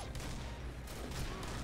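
Rapid bursts of gunfire from the video game Combat Arms crackle continuously, dense and loud, with sharp repeated shots layered over a rumbling background.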